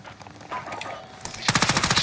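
Gunfire in Call of Duty Warzone: a few scattered shots, then a loud, rapid automatic burst of closely spaced rounds rattling close by.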